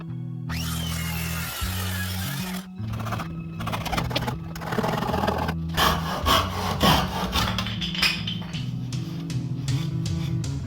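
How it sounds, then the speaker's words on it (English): Handsaw cutting through a pine board, a steady rhythmic rasp of back-and-forth strokes running loud and close throughout, with a brief pause before the sawing resumes. "and finish it off with the handsaw."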